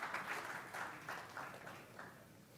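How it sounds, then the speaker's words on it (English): Faint audience clapping at a live real estate event, soft uneven bursts of applause heard from a distance over a couple of seconds. "Can I please have a bit of appreciation and clapping for him as well"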